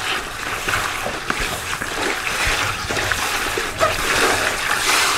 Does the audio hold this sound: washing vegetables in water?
yes